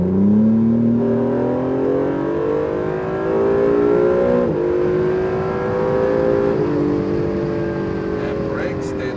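An Acura NSX accelerates hard on a race track in Las Vegas, its engine note climbing steadily through the gears, loud and close throughout with a continuous rising whine.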